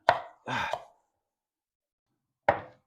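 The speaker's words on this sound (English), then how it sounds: "Sloppy chopping." A knife chops fresh pineapple on a board in a few quick, close strokes, two bursts near the start and one more after a pause.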